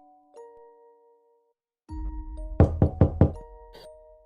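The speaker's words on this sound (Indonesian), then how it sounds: "sembari mengetuk daun pintu" Knuckles rap on a wooden door in a quick series of four firm knocks, with a lighter fifth tap after a pause, set against a soft sustained musical drone in a mystical horror story narration.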